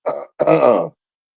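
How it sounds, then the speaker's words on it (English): A person clears their throat up close, two short gruff rasps, the second longer and more voiced. "Let me clear my throat."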